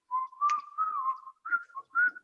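A lone whistler carries a swinging tune in a bright, clear melody, phrased in short bursts with brief breaths between them, close and fairly soft.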